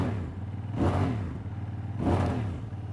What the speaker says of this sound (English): We have to hear that engine note. How does a 900 twin sound?